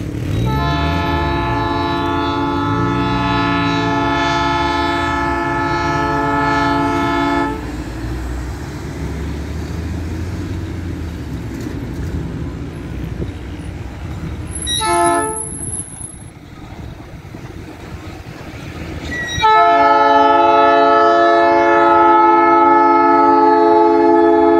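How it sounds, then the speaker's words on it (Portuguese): A train arrives at a level crossing by a church in Rolândia, Brazil, sounding loud, sustained horn blasts at the start and again at the end, with the heavy rumble of the passing train in between. "trem chegando aqui no cruzamento da Igreja da Ressurreição."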